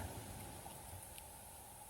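Steady rain falls outdoors in a patch of fiddlehead ferns in Norway, a dense continuous hiss with scattered drop impacts, fairly quiet and unbroken, with no voices.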